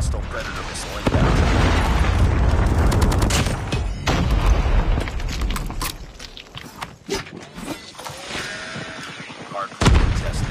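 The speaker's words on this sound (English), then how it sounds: "Hostile predator missile inbound." Loud in-game explosions and gunfire from a Call of Duty Mobile hardpoint match, with a heavy blast near the start, a dense rumbling barrage, scattered shots and another sharp boom near the end, mixed with game voice callouts.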